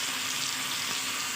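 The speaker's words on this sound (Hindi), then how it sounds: "और इसको हम इसके साथ अच्छे से फ्राई कर लेंगे।" Ginger-garlic paste fries with onions in a pan, producing a steady, even hiss of sizzling at moderate volume.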